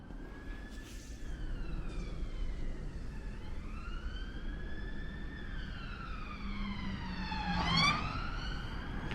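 Police car siren wailing in the distance on an early Sunday morning outdoor walk, rising and falling over steady traffic rumble, growing closer and louder near the end with a quick yelp.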